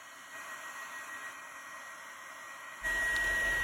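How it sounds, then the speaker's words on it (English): A handheld heat tool melting embossing powder gives a steady, close airy whoosh like a small hair dryer, which jumps louder and fuller near the end. "I usually like to start by heating the embossing powder from the bottom first."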